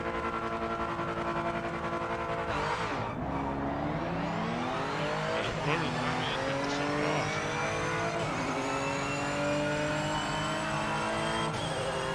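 Race car engine in the video game Project Motor Racing, Japanese prototype, loud continuous revving with rising and falling pitch through gear changes and a brief tire squeal, captured directly from computer audio.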